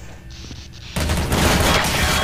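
A short quiet stretch gives way to a sudden, loud burst of rapid gunfire from the Counter-Strike: Source video game, which keeps going to the end.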